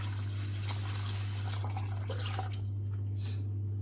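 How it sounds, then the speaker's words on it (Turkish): Hot water is poured from a bottle over salted rice, a close splashing trickle with drips over a constant low hum that thins out near the end. "Üzerine taşacak kadar sıcak suyumuzu, elimizi hafif yakacak kadar sıcak suyumuzu ekliyoruz."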